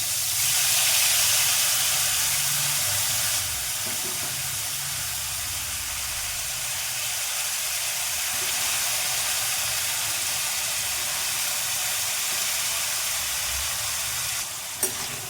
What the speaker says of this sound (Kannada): ಆಮೇಲೆ ಇದು ತೊಳೆದಿಟ್ಕೊಂಡಿದ್ದು ಬೂದ್ ಕುಂಬಳಕಾಯಿ ಹಾಕ್ತೀನಿ.